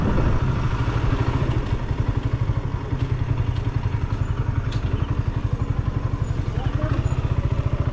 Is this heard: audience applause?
no